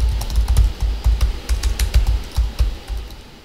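Keys clatter steadily as code is typed on a computer keyboard, a close, fairly loud run of uneven clicks with short pauses between bursts.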